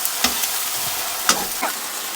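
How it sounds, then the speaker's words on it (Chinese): Soaked assorted chili peppers stir-fried in plenty of hot oil in a wok after scallion, ginger and garlic, giving a steady close sizzle broken by a few sharp clacks of the spatula scraping and tossing. "倒入泡好的各种辣椒，炒出辣椒的香味儿"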